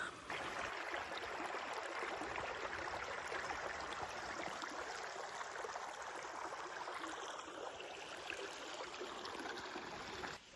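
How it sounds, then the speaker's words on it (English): A small waterfall of water pouring and carving through rocks along a forest trail, a steady, continuous rushing splash close by that holds level throughout with no voices. "there's like a little waterfall down there"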